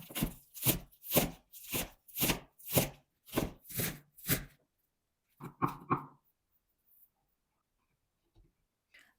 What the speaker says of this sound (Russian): Затем нарезаю зеленый лук.